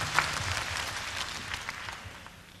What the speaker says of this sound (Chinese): 给自己掌声